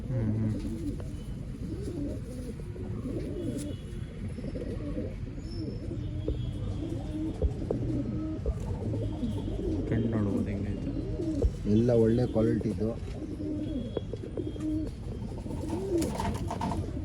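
Pigeons coo repeatedly close by while someone talks over them, with steady rustling and low background noise throughout.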